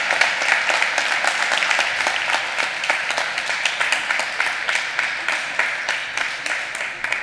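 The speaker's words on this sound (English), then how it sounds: "I see a very vigorous applause" A crowd of hoteliers applauds vigorously in a conference hall, steady dense clapping for the whole stretch with individual claps standing out, no talk.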